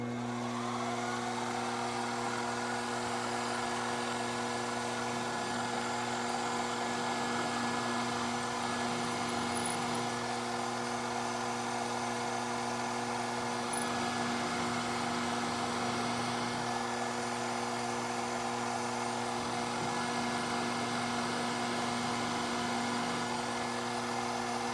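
A drill feeding through material on a fixture plate in a machine shop, a steady unbroken whine with constant hum holding even for the whole stretch, fairly close and with no talk.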